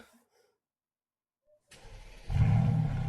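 After a near-silent pause, a car engine in a car simulator video game cranks and catches, then settles into a steady, loud rumble.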